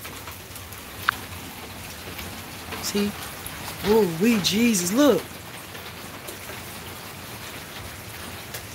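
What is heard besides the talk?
rain falling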